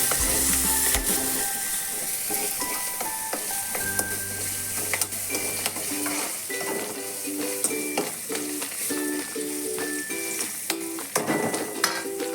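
Green chilies with red chili powder, turmeric and coriander-cumin powder fry in a pan, giving a continuous close sizzle broken by repeated scraping and clicking stirs, with no one speaking.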